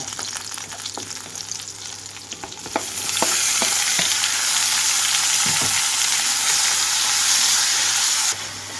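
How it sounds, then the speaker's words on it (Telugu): Tomatoes drop into a hot pan of frying green chillies for a cauliflower chutney. A steady sizzle jumps to a louder, dense hiss with a few stirring clicks, and no one speaks. "పచ్చిమిరపకాయలు అయితే పర్ఫెక్ట్గా వేగిపోయినాయి అనుకున్నప్పుడు టమాటాలు కూడా వేసేస్తున్నాను ఇందులో"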